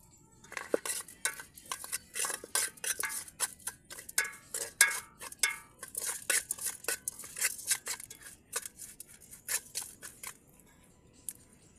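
A ladle scrapes and clinks against a metal pot over a wood-fired outdoor stove, mixing spices, turmeric and salt for a crab and fish curry; irregular close taps and scrapes in steady bursts, no talking.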